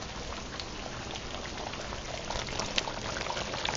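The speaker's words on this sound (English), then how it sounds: "we're going to let this simmer together for about 5 to 7 minutes" Curry chicken simmering in a pot gives a steady, dense bubbling hiss at low volume, even throughout with no talking.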